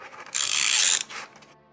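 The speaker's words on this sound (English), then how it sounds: "we're going to go ahead and put some double-sided tape." Double-sided tape is pulled and applied onto a Cricut cardstock gift bag, making one sharp close ripping hiss followed by a softer, shorter tear.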